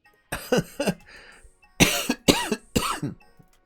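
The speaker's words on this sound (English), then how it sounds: "so I won't be coughing as much" A person coughs in a close, harsh run of about six bursts, first in a quick cluster, then a pause, then three heavier coughs in a row.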